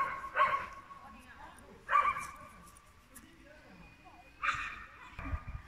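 Two dogs barking in short bursts at a moderate distance, three separate volleys spaced a couple of seconds apart over a low background rumble.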